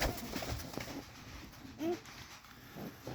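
Yellow Hungarian pigeons cooing nearby, a few soft throaty warbles standing out against a busy background with low rustling and handling noise.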